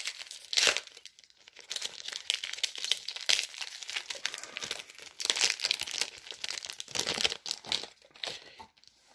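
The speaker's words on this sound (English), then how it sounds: "let's open up this 1993 Batman cards and see if we get some cool cards" Foil wrapper of a 1993 Batman: The Animated Series trading card pack being torn and crinkled open, a continuous close crackling and rustling with louder bursts, no talking.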